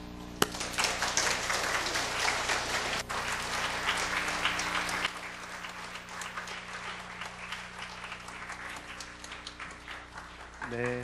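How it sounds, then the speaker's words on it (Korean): A church congregation at a mothers' prayer meeting gives a long, dense round of applause to welcome Elder Jeon Ok-pyo, the invited speaker. The clapping is steady and full for about five seconds, then eases but carries on to the end. "우리 귀한 강사님, 전옥표 장로님 모실 때 귀한 박수로 인사를 대신하도록 하겠습니다."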